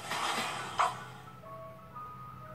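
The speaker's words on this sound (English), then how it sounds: "Oh, the ice cream truck is outside." Ice cream truck outside playing its tinkling jingle, a thin melodic chime heard at a distance over faint ambient noise after a short burst of nearby sound.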